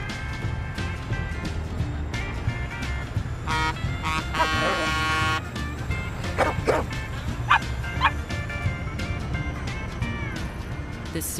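A dog barks several times in a car advert, with sharp, fairly close barks and yips scattered among other sounds and some talk.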